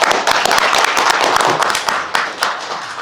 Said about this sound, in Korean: 우리 다들 위해서 박수 한번 칠까요?